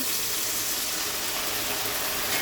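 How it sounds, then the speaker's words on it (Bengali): A little water pours into chicken masala frying in a pan, giving a steady, close rushing splash and hiss that fills the whole short moment without a break. "আমি অল্প পানি দিয়ে দেবো"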